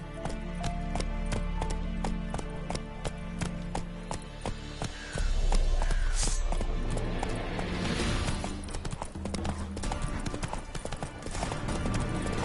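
Roach the horse gallops in The Witcher 3: Wild Hunt, with steady rhythmic hoofbeats that run throughout and a louder surge partway through, set over game ambience.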